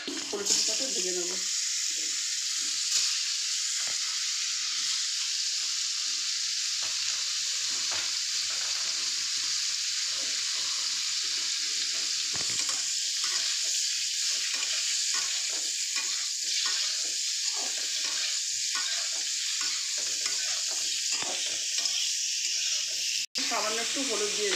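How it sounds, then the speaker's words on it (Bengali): Cauliflower fries in oil in a pan, making a loud, steady hiss and sizzle that goes on without a break, with occasional stirring noises close by. "ফুলকপিটাকে ভেজে নেব।"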